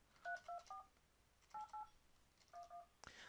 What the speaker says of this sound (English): So let's go ahead and make an outside phone call.